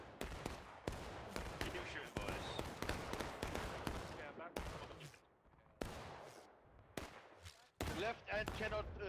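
Musket volleys crack out in War of Rights, a Civil War shooter: a rapid, irregular run of loud shots, some close and some more distant, with voices talking among them.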